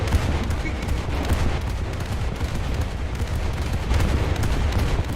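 Rapid 40 mm naval guns pound away in a naval warfare game, a dense continuous barrage of overlapping gunfire holding steady and loud throughout, with booming low rumble beneath.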